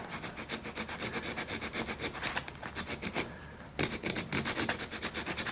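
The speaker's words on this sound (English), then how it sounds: "my favorite flat file, and I'll just start opening it up a little bit" A flat file works a balsa wood wing part for a model glider, making steady, close, rhythmic rasping strokes that continue with one brief pause.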